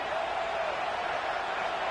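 Football stadium crowd roaring steadily in support of the defense before a big third down at a game against UNC, a continuous broad wash of cheering that holds loud and even throughout.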